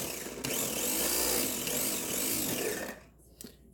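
A blender or food processor grinds tomatoes for homemade spicy salsa, a loud, steady whirring burst lasting a few seconds before cutting off abruptly, followed by a brief clatter.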